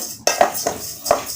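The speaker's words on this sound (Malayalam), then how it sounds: "ചട്ടുകം കൊണ്ട് നന്നായി ഇളക്കി കൊടുത്ത് നന്നായി വറുത്തെടുക്കണം." Rice roasting in a pan on the stove is stirred with a spatula, giving a few sharp scraping clinks of the utensil against the metal, spaced irregularly and close up, with no voices.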